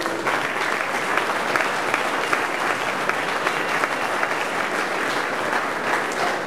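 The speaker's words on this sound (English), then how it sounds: "Let's give a round of applause for all the TechArb teams that do some incredible work." A room full of people applauds startup teams at a university venture showcase, sustained and even clapping that holds steady at moderate loudness from start to finish.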